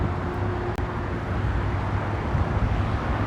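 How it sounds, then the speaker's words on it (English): Steady traffic rumble from cars on a busy street, a continuous low wash of road noise at moderate level with no distinct single pass-by standing out. "And still at this busy street, we got some cars going by and things like that."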